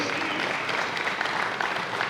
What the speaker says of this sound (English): y'all clap for yourselves.